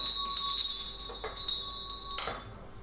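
A small Buddhist ritual bell rings with a sustained, shimmering tone, then gives soft clinks as it is handled and set down, its ringing fading away.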